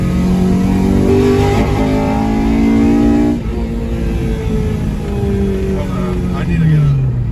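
Honda Civic DX with a swapped K20Z3 engine, converted from automatic to manual and missing its O2 sensor, running close and loud with revs climbing and falling in pitch, while a voice talks over it.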